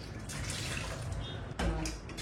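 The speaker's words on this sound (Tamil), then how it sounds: "கொஞ்சம் தண்ணி ஊற்றி" Water splashes and pours steadily into a cooking pot of goat trotter paya at close range, with a brief louder gush toward the end.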